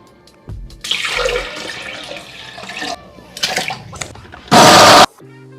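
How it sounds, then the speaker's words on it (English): Water is poured into a blender jar for a pineapple, ginger, lemon and orange juice, splashing in several uneven bouts before a short, loud rushing burst near the end; no one speaks. "So I'm going to add 2 more cups of water."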